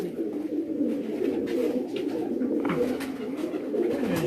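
Pigeons on a rooftop coo in soft, continuous overlapping rolls, close and fairly loud, with a few faint voices and background noises underneath.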